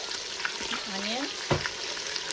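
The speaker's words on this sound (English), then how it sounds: "Give it a good stir." Potatoes and onion sizzle and crackle in a pan for chicken curry while being stirred, a close, soft frying hiss with a brief scrape of the utensil.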